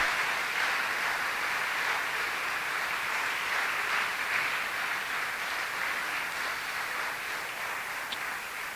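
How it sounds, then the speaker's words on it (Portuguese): A church congregation applauds steadily for several seconds, a continuous wash of many hands clapping at moderate distance with no voices standing out. "dê um aplauso ao Senhor"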